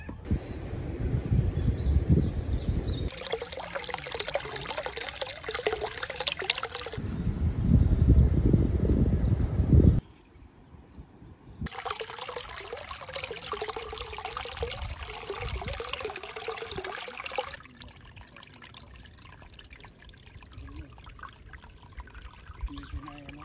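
A rocky riverside campsite in Japan carries the sound of running water that shifts between loud rushing and softer trickling. Abrupt changes suggest separate takes, and one stretch is nearly quiet.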